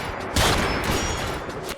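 AutoMag pistol fired indiscriminately in Fallout 4 with the Immersive AutoMag mod, a burst of loud shots opening after a brief lead-in and trailing into a long echoing tail.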